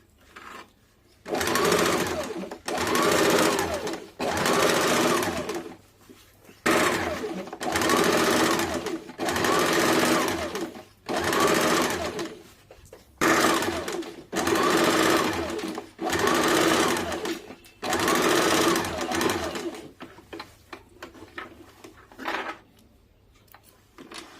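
A sewing machine stitches a folded blouse seam in about nine loud, close bursts of rapid whirring, separated by short pauses.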